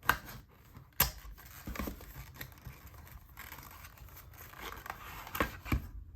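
Cardboard box of a COUCOT 35-watt dual USB-C PD fast charger being opened up close, with scraping, crinkling and tearing of packaging in a few sharp bursts followed by steady rustling.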